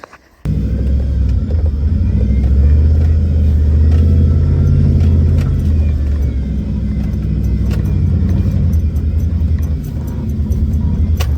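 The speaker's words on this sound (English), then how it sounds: "It's a rocky hill climb, but nothing too technical for the Land Cruiser." A Toyota Land Cruiser grinds up a rocky hill-climb trail near Black Hawk mining country, its engine a steady, close low rumble that holds loud and continuous throughout with faint rattles over the drone.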